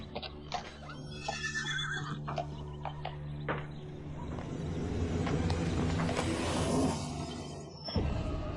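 Several horses neigh and whinny in loud, shrill bursts, mixed with hoof clatter and a sudden sharp crash near the end.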